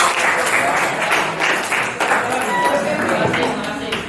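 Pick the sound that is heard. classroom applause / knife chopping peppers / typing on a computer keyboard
classroom applause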